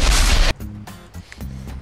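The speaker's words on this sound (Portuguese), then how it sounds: "Agora tá com chuva, tiro, bomba." Heavy gunfire and explosions from a rainy GTA V race: a loud, dense barrage of shots and blasts for half a second, then a quieter run of scattered pops and rumbling booms.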